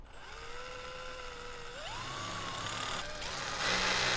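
An electric drill boring marked-depth holes whines steadily, its pitch climbing as it speeds up and bites, ending in a loud high-pitched burst; close and continuous.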